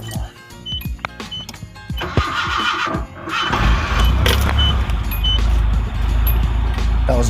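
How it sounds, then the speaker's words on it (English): A Nissan Hardbody pickup engine cold-starts after a fuel filter change: early clicks and clatter, then the engine catches around the midpoint and settles into a loud, steady low rumbling idle. "That was a cold start"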